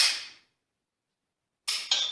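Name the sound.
dry fire trigger shot on G-Sight laser trainer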